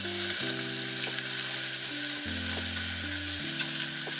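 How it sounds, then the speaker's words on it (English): Ginger, garlic and onions sauté in a pan over medium-high heat on an outdoor beach cooking setup, giving a steady close sizzle and frying hiss throughout with no talking. "So I'll be cooking our ginger, our garlic, and our onions on medium-high heat. Want to give that a good saute."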